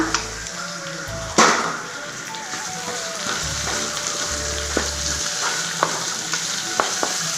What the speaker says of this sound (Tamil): இப்போ நம்ம தக்காளி இந்த காயெல்லாம் சேர்த்து வதக்கலாங்க நல்லா